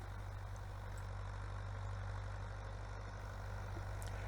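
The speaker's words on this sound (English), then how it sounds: "The tractor is a 1970s vintage Oliver 1365, about 60 horsepower." A 1970s Oliver 1365 farm tractor of about 60 horsepower idles steadily nearby, a constant low diesel rumble that runs unbroken from start to finish with no talk over it.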